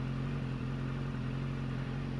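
A 2016 BMW S1000RR sport motorcycle idling steadily just after starting, a steady, even engine drone with a strong low hum, heard close and alone without talking.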